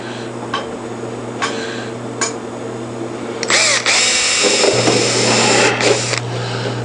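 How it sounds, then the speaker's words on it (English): A power drill drives screws into the wing skin of a Piper Super Cub, several short separate bursts followed by a longer sustained run, loud and close with no talk. "I'm going to go ahead and put some screws in it anyway"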